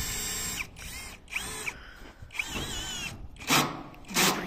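Power drill driving screws during exterior thermal insulation work, in several short whirring bursts that rise in pitch and stop, separated by brief pauses.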